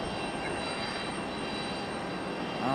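A United airliner landing on runway 5 left at Raleigh-Durham airport gives off a steady, fairly loud engine rush that stays even through the short stretch.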